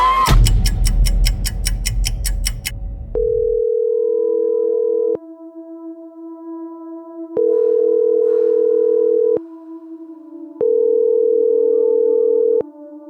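A telephone line gives a short burst of rapid ringing pulses, then a steady electronic tone sounds three times with pauses between, ahead of a voicemail greeting.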